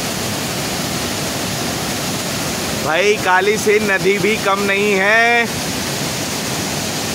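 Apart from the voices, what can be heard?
Chuliya waterfall of the Chambal river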